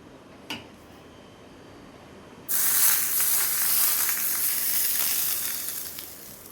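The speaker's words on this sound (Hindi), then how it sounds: "अब इस ऑयल को हम डालेंगे इस सत्तू के स्टफिंग में।" Smoking-hot mustard oil hits sattu stuffing with a sudden loud sizzle that hisses steadily for several seconds and slowly fades. Before it, there is only a quiet kitchen and a brief small clink.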